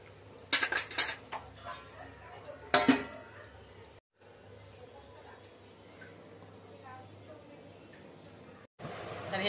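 Crab curry being ladled from a pot with the gas just turned off, giving a few sharp metallic clinks and scrapes of a spoon against the pot, with quieter kitchen rustling in between.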